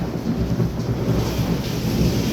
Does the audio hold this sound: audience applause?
no